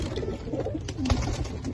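Pigeons, including a pair of Rajshahi Giribaz, coo softly at a pigeon farm at night, low throaty calls repeating over a steady background hum.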